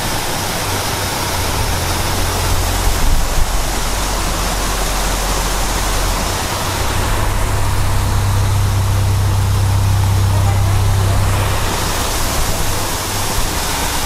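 Water rushes steadily into a canal lock to raise a narrowboat, a loud, continuous broadband roar with a low rumble underneath that swells and eases over time.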